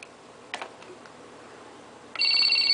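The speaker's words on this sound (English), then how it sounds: "Ring the phone." A toy telephone rings in a quiet home, a steady electronic trill starting near the end after a brief tap or click, loud and close with no talking.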